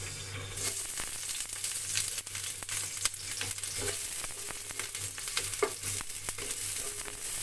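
Onions frying in a pan for a Filipino milkfish and chayote lunch, a steady close sizzle with scattered pops and crackles throughout.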